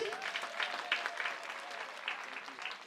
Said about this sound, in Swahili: Tupige makofi